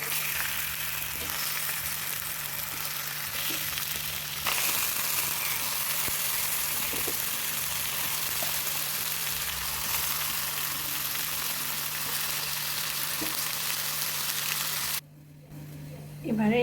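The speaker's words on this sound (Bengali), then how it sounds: "তেলটা গরম হয়ে যাওয়ার পরে এর মধ্যে টমেটোগুলো দিয়ে দেব" Tomatoes fry in hot oil for a Durga Puja tomato chutney, giving a loud, steady broadband sizzle that runs throughout and drops away sharply near the end.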